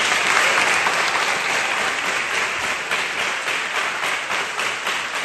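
Dense, loud, close applause from an audience clapping for the father, steady and unbroken from start to finish.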